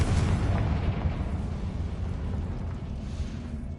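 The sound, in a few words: Confringo fire spell explosion, from video game Hogwarts Legacy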